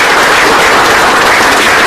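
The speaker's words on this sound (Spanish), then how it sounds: "Un aplauso, por favor." An audience applauds after a presentation on Mexican housing price indicators, a loud, continuous rush of many people clapping together, close and full, with no speech over it.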